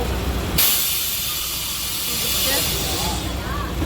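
Broad, steady rumble and hiss of a train at a station, with a burst of high hissing like released steam near the start and faint voices.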